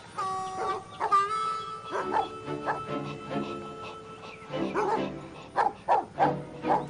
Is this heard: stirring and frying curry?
no